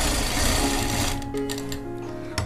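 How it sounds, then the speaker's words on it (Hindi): A sewing machine stitches fabric for a jacket, running in a steady, fast mechanical whir close by, then slowing into shorter bursts of stitching with brief pauses toward the end. "आ देखो उस तो बाद फिर आपां थोड़ी जिही सिलाई गाहां लैके जाणे आ।"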